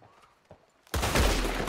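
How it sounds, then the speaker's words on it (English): Enemy gunfire in Red Dead Redemption 2 breaks in as a sudden loud, dense burst of overlapping shots after a quiet start, holding strong to the end. "They're shooting at me."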